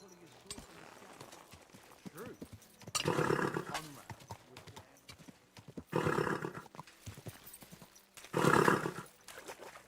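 Three loud bursts of horse whinnying and galloping hooves in the video game Kingdom Come: Deliverance 2, spaced a few seconds apart, with quieter clopping and a voice talking between them.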